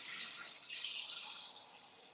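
Water runs steadily from a kitchen tap into a pot for boiling potatoes, a constant bright hiss that lightens slightly near the end.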